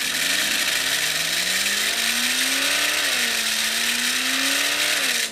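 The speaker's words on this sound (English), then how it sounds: "definitely does give you that Ford Mustang GT sound" Toy Ford Mustang GT Bluetooth RC car from the Shell Motorsport collection plays a steady, loud synthetic engine sound effect, its pitch rising and falling like revving, continuous for about five seconds with no talk.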